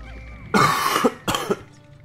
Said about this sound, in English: Some leftover cough.